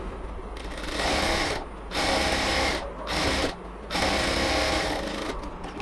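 A sewing machine running double stitches along a designer semi frock, four bursts of fast, rattling needle action separated by short pauses, close and loud.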